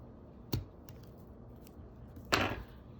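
Two crisp, close snips about two seconds apart as scissors cut open the ovary of a flower during a dissection, with no talking.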